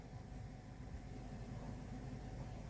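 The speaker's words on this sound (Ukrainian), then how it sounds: "І у нас опять включається моторчик. Он зараз включився." A Renault Scenic 3 1.4 TCe ABS pump motor runs steadily while the brakes are being bled, a continuous low electric hum and whir that stays even throughout with no talk over it.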